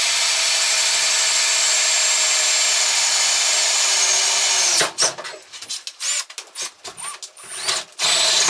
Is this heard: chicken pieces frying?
no